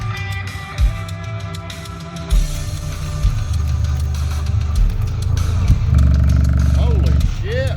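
Subwoofer (HD3K) driven with a 20 Hz test tone, a loud sustained low rumble that swells near the end as the cone loses control, with rattling and someone talking over it.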